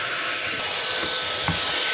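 A Dustbuster handheld vacuum runs steadily while cleaning a house, a continuous airy whine with brief scraping bumps as the nozzle rubs across surfaces, close and fairly loud, with no talking.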